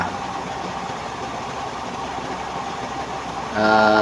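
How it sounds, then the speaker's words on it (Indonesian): A Dongfeng 24 HP diesel engine drives a rice milling machine with polisher and blower, a loud steady mechanical drone close by that swells louder near the end. "Mesin PK, mesin poles sama blower itu cuman pakai satu mesin Dongfeng 24 PK."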